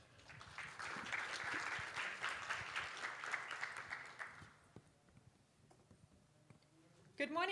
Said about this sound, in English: Round of applause for Yvonne.